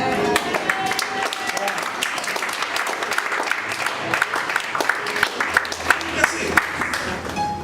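Applause at a sermon-like gathering, with a crowd clapping steadily and fairly close while a voice carries on over it.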